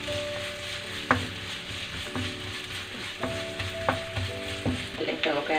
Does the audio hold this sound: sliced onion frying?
yes